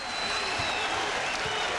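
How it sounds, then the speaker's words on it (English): A basketball crowd at a 1996 UConn at Georgetown men's college game cheers and applauds in a dense, loud, continuous roar of clapping filling the arena. "And the crowd loves it."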